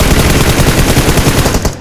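Loud, rapid automatic gunfire from the mobile battle-royale game PUBG Mobile rattles on continuously as covering fire, a dense unbroken burst with no voices.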